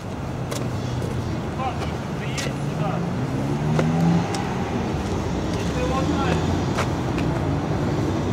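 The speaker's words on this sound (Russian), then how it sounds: "вот он уезжает с тротуара" Audi car pulling off a sidewalk on a city street in Voronezh, a low engine rumble mixed with steady roadway traffic noise, moderately close.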